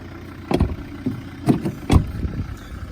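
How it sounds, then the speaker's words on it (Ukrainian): A Volvo V-series D3 diesel engine with an Aisin automatic idles steadily with a low rumble, broken by a few soft knocks and thumps nearby. "Мотор просто працює ідеально"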